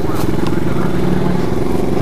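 A motorcycle engine drones steadily up close with a rumbling, pulsing tone, mixed with wind and rattling, and a Russian-speaking voice partly heard underneath, approaching a steep descent.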